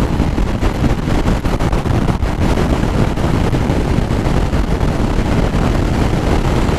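Strong, loud wind roars across the microphone while riding a Yamaha Lander motorcycle at speed on a highway, a continuous buffeting rush with no talking.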